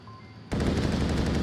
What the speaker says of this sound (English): Eloy, that's a headshot, bro.